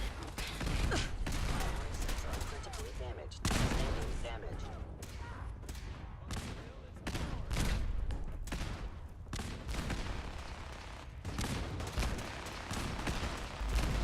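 An automated turret in Fallout 4 fires in rapid bursts of gunfire with mechanical clanks and thuds, loud and dense, under a player's talk.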